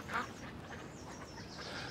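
A single short duck-like quack from a bird sounds once near the start, faint against a background hum.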